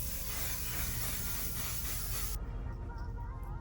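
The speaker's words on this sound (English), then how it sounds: "I love this setting spray." Makeup setting spray misted in a steady, close hiss for a couple of seconds before cutting off, leaving quieter room tone.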